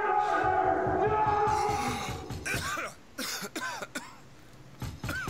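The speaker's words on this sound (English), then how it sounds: "Waking up coughing." A character in the video game Bioshock Infinite: Burial at Sea coughs and clears their throat repeatedly in bursts, close and fairly loud, over a steady synthetic background tone that fades partway through.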